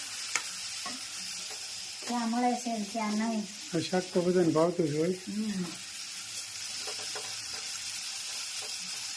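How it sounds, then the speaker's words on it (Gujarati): Steady hiss of spiny gourd (kantola) tempering sizzling in hot oil runs throughout, with someone talking over it for several seconds midway. "સંતોલાનો વઘાર જોઈ શકો છો તમે"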